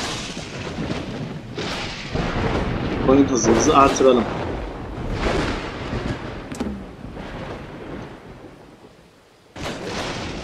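Thunder rolls and crashes repeatedly during a storm with rain in the prehistoric survival game Dawn of Man, loud booming bursts recurring across the scene while someone talks over it.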